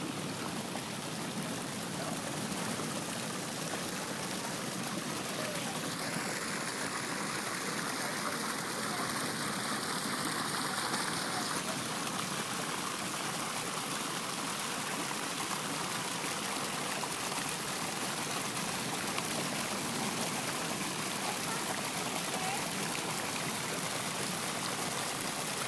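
Steady broadband rush of water flowing and churning at Queen's Bath, a lava-rock tide pool on Kauai, continuous and fairly loud with ocean surf washing through, no clear talk over it.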